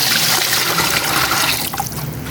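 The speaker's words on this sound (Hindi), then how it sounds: "1 लीटर इसमें पानी डालेंगे," Water pours steadily and loudly into a cooking pot, about a litre, a dense splashing rush that eases slightly near the end.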